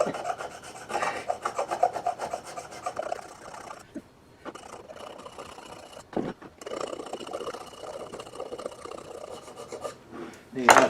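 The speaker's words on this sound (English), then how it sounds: "I'm going to go over this with sandpaper afterward" Sandpaper rubbed against a wooden piece turning on a Fay & Scott lathe, heard as a steady close rasping with pulsing texture, a few brief breaks and a louder scrape at the end.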